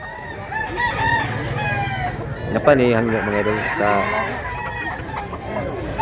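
Amid a rural poultry market in Mantalungon, Cebu, a rooster lets out a strong, close crow in the middle of the stretch, with more birds clucking and people chatting throughout.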